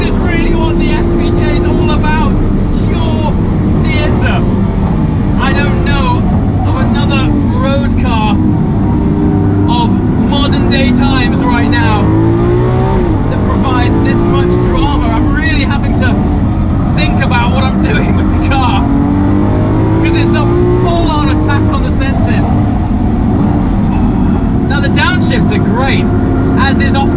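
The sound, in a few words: Lamborghini SVJ engine roaring on a race track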